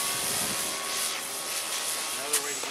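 A Banana Hobby P-40 RC model airplane flies with a steady, high-pitched electric motor whine that rises and falls slightly as it passes, with people talking nearby.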